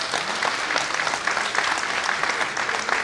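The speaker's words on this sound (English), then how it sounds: "Why don't we give them all a big round of applause?" Steady, dense applause from an audience at a media awards ceremony, loud and continuous throughout.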